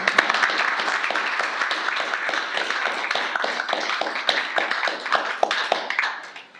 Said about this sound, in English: I'd like to give her a round of applause, everyone.